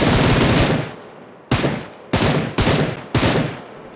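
Rapid automatic gunfire in the mobile shooter PUBG Lite, a long loud burst followed by four short sharp bursts in quick succession, close and with no talking over it.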